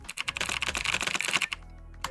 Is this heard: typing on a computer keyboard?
yes